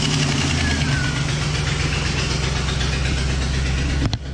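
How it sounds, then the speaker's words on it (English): A 2000 Ford Explorer engine idles steadily with a close, loud low rumble and a faint mechanical knock, ending in a brief clunk near the end. "So now we gotta go start truck, turn the AC on all the way"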